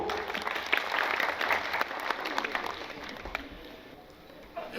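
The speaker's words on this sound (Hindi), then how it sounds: "आपकी भरपूर तालियों में मैं यहाँ पर दावत दूंगा मिस्टर एहसन महमूद।" Audience applause at a farmers' fair in an industrial estate, a steady spread of clapping that fades slightly toward the end, with a faint voice mixed in.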